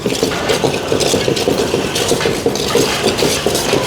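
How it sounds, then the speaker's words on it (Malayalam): Coriander and chili powder dry-roasting in a pan, with a spoon scraping and clinking against the metal in a quick, continuous, close rhythm and no talking. "ഇതിപ്പോൾ മല്ലിപ്പൊടി, മുളക് പൊടി വറുക്കുന്നു."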